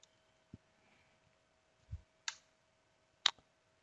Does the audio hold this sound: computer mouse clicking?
yes